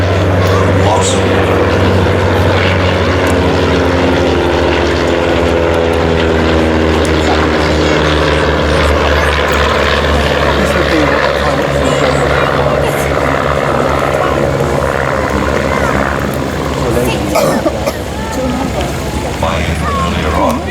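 A light propeller aircraft flies past at an air festival, its steady engine drone loud and close with a slowly shifting pitch, while a commentator talks over it.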